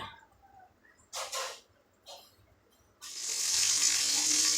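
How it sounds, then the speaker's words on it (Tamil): Mustard seeds and curry leaves splutter in hot oil for a Tamil cowpea tamarind curry. Two short crackling bursts come first, then a steady, close, loud sizzle with no talking. "கடுகு பொரிஞ்சிருச்சு அப்புறமா வந்து கருவேப்பிலை போட்டுக்கோங்க"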